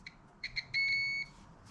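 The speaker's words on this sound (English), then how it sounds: "I got my meter here. It's set on squawk where it beeps at you" A multimeter set to its audible continuity mode gives a few short beeps and then one steady tone of about half a second, tested on a 1955 car's dome light switch. The sound is clear against quiet background noise.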